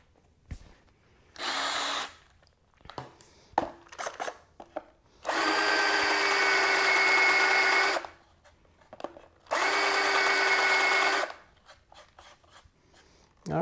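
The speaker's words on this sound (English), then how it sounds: "All right, we got that one countersunk, and we'll add the screw." Power drill countersinking a screw hole in a DIY airbrush turntable for model painting, three close bursts of whining drilling of one to three seconds each, separated by quiet handling clicks and light rubbing.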